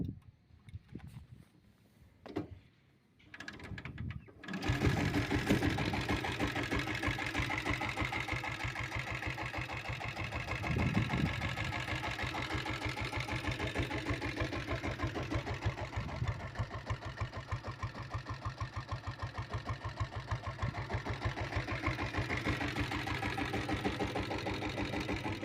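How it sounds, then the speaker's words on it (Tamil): A diesel Bullet motorcycle with self start is kicked over after a few faint knocks and settles into a loud, steady, rapid thumping idle nearby that continues for about twenty seconds without talking. "இப்போ கிக் ஸ்டார்ட் பண்ணி காமிக்கிறேன் பாருங்கள்."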